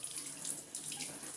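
Water runs from a tap in a steady, even stream, a close, continuous rushing splash into a sink with no voices over it.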